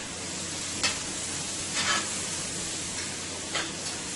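Garlic and onion hitting a hot pan of sauce, giving a steady broadband sizzle with a few brief louder bursts as they are stirred in; no talking.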